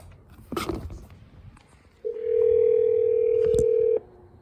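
A phone call to a company call center: a brief clunk and handling noise, then a loud steady dial tone that holds for about two seconds before cutting off with a click.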